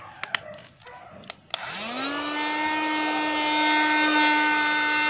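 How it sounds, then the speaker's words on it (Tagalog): A small cordless mini vacuum motor starts after a few light clicks and knocks, spinning up into a steady, close whine that runs on to the end while cleaning a Carrier Optima air conditioner. "Vacuum natin siya."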